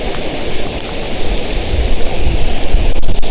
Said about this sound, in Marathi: जोरदार पाऊस आहे.